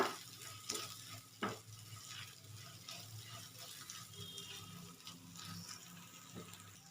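Mini moghli snack sizzles gently in a pan as it is stirred with oregano, with faint scraping strokes and soft frying crackle throughout, quiet and close.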